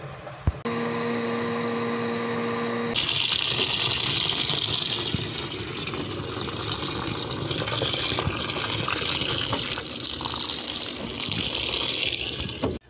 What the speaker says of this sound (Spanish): Esto lo voy a poner a remojar en agua caliente un ratito